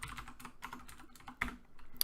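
Rapid keystrokes on a computer keyboard as a Linux terminal command is entered, an irregular run of close, crisp clicks with a slightly louder tap near the end, no voices.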